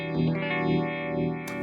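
Electric guitar played through a Red Witch Moonphaser pedal on its tremor phase setting, a held chord sweeping in slow, regular phase and volume swells, with a brief bright strum near the end.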